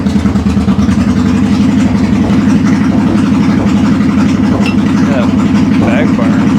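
A 2001 Honda Shadow motorcycle engine idles loudly and steadily for the whole stretch with a deep, even throb, and an indistinct voice may be faintly present underneath.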